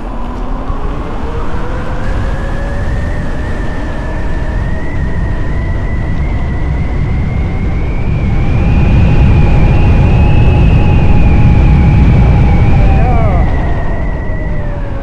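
An 8000-watt Spark Javelin electric motorbike accelerates hard, its rising motor whine climbing steadily in pitch over heavy rushing wind noise, then easing off near the end.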